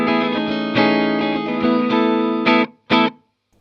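Clean electric guitar through a Roland JC amp model on a BIAS Mini, dry straight out of the box: a sustained chiming chord passage with bright overtones, ending in two short separate strums, loud and alone.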